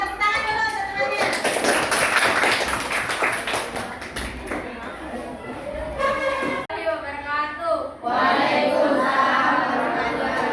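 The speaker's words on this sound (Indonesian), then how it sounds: "Ya, silakan tepuk tangan dulu semuanya." Students in a classroom clap together, a dense, steady burst of handclaps close by, with children's voices and chatter mixed in throughout.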